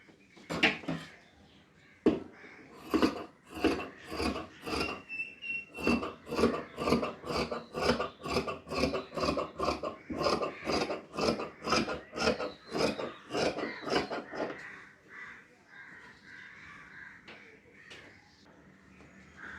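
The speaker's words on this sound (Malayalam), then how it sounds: "ഇതാ ഈ മാർക്കിംഗ് കൂടെ നമുക്കതൊന്ന് കട്ട് ചെയ്തെടുക്കാം" Scissors cut soft crepe fabric along a marked line for a skirt jilbab, a long run of close, rhythmic crunching snips at an even pace that slows and thins out near the end, with no talk.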